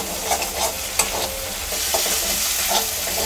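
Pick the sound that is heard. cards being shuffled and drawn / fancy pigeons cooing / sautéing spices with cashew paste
sautéing spices with cashew paste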